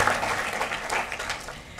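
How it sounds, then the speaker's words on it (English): An audience applauds at a Charter Day faculty service-award ceremony, producing a steady, moderately loud wash of clapping that runs through the whole short stretch with no voices. "She's not here, but we'll clap for her anyway."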